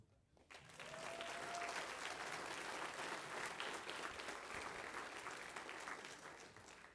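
An audience at a spring school band concert and awards ceremony bursts into sustained applause after a brief pause, a dense, even wash of many hands clapping that holds steady for about six seconds.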